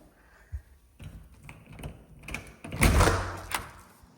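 A side door in a house opens with a sequence of clicks and knocks from the latch and frame, ending in a louder rattling swing and thud, close by.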